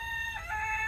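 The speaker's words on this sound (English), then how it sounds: "turn the camera on and the rooster start crowing" A rooster crows in a greenhouse setting, one sustained cock-a-doodle-doo call that is close and fairly loud, its harmonic tones rising and holding to the end over a low background rumble.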